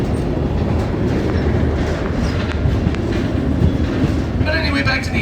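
Onboard a moving passenger train passing into a large aspen grove, a continuous loud rumble of wheels on track carries steady clacking, with faint higher squeals near the end.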